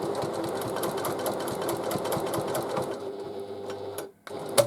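A sewing machine stitches a ribbon bow onto a tote bag, running in a steady, close, rhythmic whir of needle strikes before stopping briefly and then starting again.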